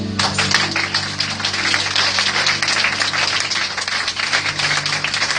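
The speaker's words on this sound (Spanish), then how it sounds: "Dar un aplauso al Señor" A church congregation applauds together during a worship service, a dense, steady wash of clapping that carries loudly from start to finish, with a low sustained musical hum running beneath it.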